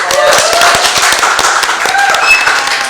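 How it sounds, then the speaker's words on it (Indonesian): A small group of people from a Brompton folding-bike community gathering in Jakarta claps close by, giving short, distinct hand claps in a brisk, uneven rhythm, with faint voices underneath. "Tepuk tangan teman-teman semuanya."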